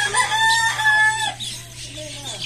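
A young four-month-old fighting rooster crows once, loud and close, its call rising and then trailing off, with no talk over it.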